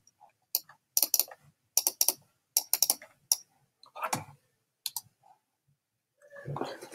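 A computer mouse clicked in quick pairs and single taps while playing Roblox Phantom Forces, close and crisp, with brief muttered talk near the end.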